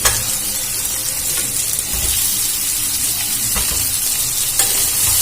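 Fried potatoes tumble into a pan of simmering chicken masala, setting off a loud, close sizzle with the scrape and clatter of stirring, steady throughout with a few sharper knocks.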